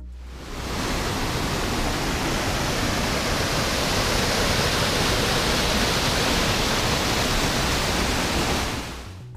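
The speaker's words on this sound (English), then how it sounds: "the Glücksplatz, place of happiness, at the foot of the mighty waterfall" The mighty waterfall at the Glücksplatz in Hallstatt roars as a dense, steady rush of falling water, loud and unbroken, rising in and fading out at the edges.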